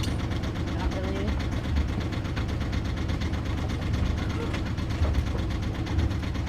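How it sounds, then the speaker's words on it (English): A sailboat's engine runs steadily while the boat anchors, a low throbbing idle with a rhythmic knock, loud and close in the cockpit, with no speech over it. "The cockpit always amplifies the engine sound too."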